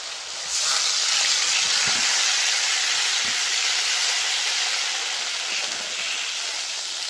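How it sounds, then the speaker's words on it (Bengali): Water comes to a boil in a pan over a clay stove, giving a loud, steady broadband hiss that holds evenly from start to finish. "জলটা ফুটে উঠেছে"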